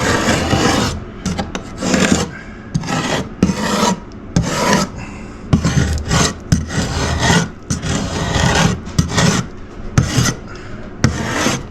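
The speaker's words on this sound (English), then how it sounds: "Anywhere it is peeling, we're just going to rub it." Loose, peeling paint is rubbed off old wooden beadboard about 120 years old. Close, repeated rasping scrubbing strokes come in uneven bursts with brief pauses between them.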